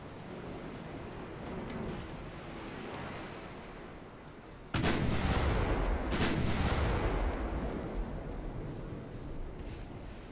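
A naval gun turret in the Ultimate Admiral: Dreadnoughts naval battle game fires with a sudden loud boom partway through. Heavy rumble rolls on after it with sea and wind noise, and a second blast follows.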